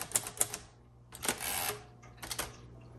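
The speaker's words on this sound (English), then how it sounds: "This is a wonderful typewriter." A tan crinkle-finish 1957 Royal Quiet Deluxe manual typewriter is typed on nearby, with crisp individual key strikes, a few quick clusters of clacks and short mechanical rattles in an otherwise quiet room.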